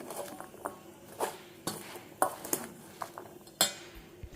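Ingredients mixed in a bowl by hand or spoon: soft irregular clinks and scrapes at close range, quiet between sharper knocks, with no speech.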